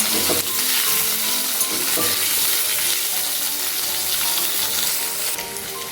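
Paneer frying in mustard oil over a medium flame makes a loud, continuous sizzle with light crackling and occasional stirring, close up and with no speech.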